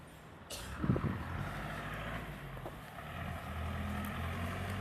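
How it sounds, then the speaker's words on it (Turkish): A minibus passes along a neighbourhood street, heard through Philips SHB9850NC noise-cancelling headphones, so the engine is a dull, muffled low rumble with a steady hiss of street and wind noise around it. "Şu ileriden giden minibüsün sesini bayağı yüksekten işitirdim şimdi."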